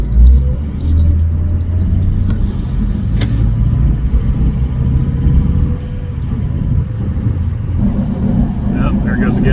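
A Ford 6.0 Powerstroke diesel truck with a sticking turbo idles with a steady low rumble that rises and falls in surges, heard close up with someone talking over it.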